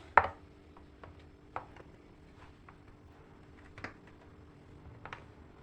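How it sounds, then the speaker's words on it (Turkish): A knife chops figs on a cutting board in a few sparse, sharp taps with pauses between them, close up and fairly quiet. "incirlerimi dediğim gibi küçük olacak doğrayacağım"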